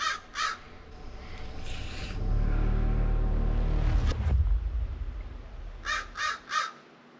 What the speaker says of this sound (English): Don't mind the crow, he's just watching.